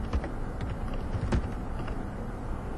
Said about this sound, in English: Again, I'm typing some random text.